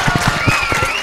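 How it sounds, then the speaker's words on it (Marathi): A crowd at a prize distribution ceremony for the Navabharat Premier League 2025 claps in a brief, loud burst of brisk, rhythmic applause, heard up close. "टाळ्यांचा गजर झाला माझ्या मित्रांनो"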